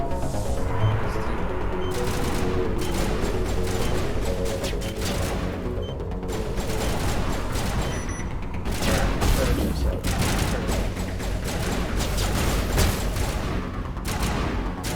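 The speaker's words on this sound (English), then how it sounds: "They're shooting at me." Enemy gunfire in Mass Effect, a sustained fusillade of rapid shots and mechanical clatter rolling on for the whole stretch, loud and close, with bursts of in-game voices talking over it at times.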